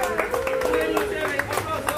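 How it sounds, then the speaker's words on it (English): Scattered hand clapping during a darts game, with an excited voice calling out loudly over it. "Big applause, Rina!"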